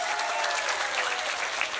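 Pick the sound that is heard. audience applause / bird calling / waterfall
audience applause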